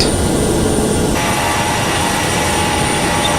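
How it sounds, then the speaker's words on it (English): Boeing 767 jet engines at full climb thrust in the FSX flight simulator, a loud continuous broadband roar with a high whine, steady and unbroken, with no voices. "right now I'm running the engines flat out"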